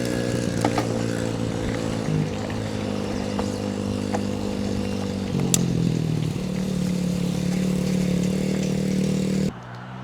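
A Yamaha TT-R 110 dirt bike engine drones steadily and close while riding through woods, its pitch shifting as it changes gear, with a brief clatter partway through before the motor cuts off near the end.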